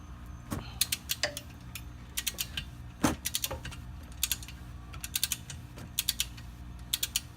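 Ratchet working a 14 mm drain bolt on a Mercedes SL55 AMG differential, bursts of sharp, close clicking strokes repeated in short irregular runs, alone without talk.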